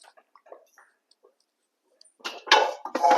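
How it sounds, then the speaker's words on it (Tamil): A lid is set onto a cooking pot while rava upma cooks on a lowered flame, giving a few close, bright metallic clanks and rattles after a brief quiet stretch. "மூடி போட்டு மூடிக்கலாம்."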